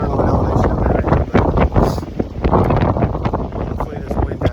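Strong wind gusts in Surprise Canyon, Death Valley, buffeting the microphone in a steady, loud rush with someone speaking over it.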